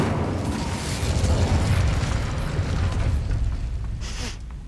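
A fiery Incendio spell blast in Hogwarts Legacy erupts as a loud, rumbling whoosh of flame with deep booming low end, then slowly fades, a brief crackling burst near the end.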